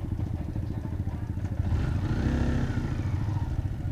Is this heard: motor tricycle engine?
yes